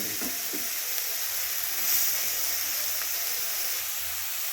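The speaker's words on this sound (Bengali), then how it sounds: "এবারে এর মধ্যে দিয়ে দিচ্ছি গ্রেট করে রাখা গাজরগুলো" Grated carrots sizzling in hot ghee with a whole bay leaf and green cardamom, a steady bright hiss of frying with a few soft stirring scrapes, close and continuous without talk.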